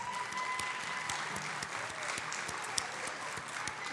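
Applause for student ambassadors waving from the side of a stage at a college scholarship pageant, a steady wash of clapping from a large seated audience held at moderate level throughout.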